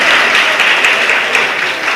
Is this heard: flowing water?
no